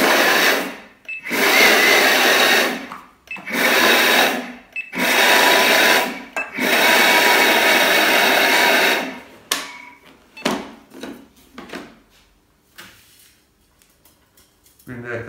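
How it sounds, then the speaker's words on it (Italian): Kitchen blender pulsed in short bursts, roughly four loud whirring runs of one to three seconds separated by brief pauses, followed by quieter clicks and handling sounds. "Chiudiamo il frullatore e andiamo a frullare a intermittenza."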